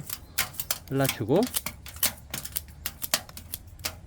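Scissors snip through the roots of a plant being repotted, several short sharp clicks in a quiet room, with a voice briefly speaking partway through.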